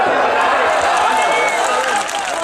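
An audience at a mushaira poetry gathering claps together in a dense, sustained burst that stays loud and even, then eases slightly at the end.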